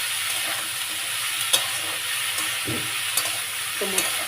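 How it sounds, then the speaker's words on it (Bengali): Taro flowers fry in oil in a pan for a prawn ghonto, giving a continuous soft sizzle broken by a few sharp utensil clicks and short stirring scrapes. "এবারে আমি কচুর ফুলগুলো দিয়ে দিলাম এটা আমি সিদ্ধ করিনি এটা তেলের উপরেই সিদ্ধ হবে আস্তে আস্তে"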